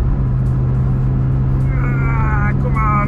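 Car engine straining up a hill, a steady low droning hum with a strong constant tone and rumbling underneath, close and loud, while voices talk over it in the cabin.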